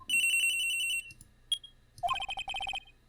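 A cell phone ringing in the Phoenix Wright: Trials and Tribulations video game: a long sustained electronic tone, a short blip, then a quick run of chirping pulsed beeps, clear and close with no speech.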